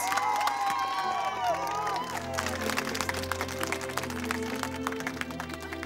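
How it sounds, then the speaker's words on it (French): A crowd of volunteers and neighbours applauds and cheers at a home makeover reveal for a young mother, with dense clapping and shouts under music, loud and close throughout. "Vous pouvez vous applaudir. Bravo à vous tous."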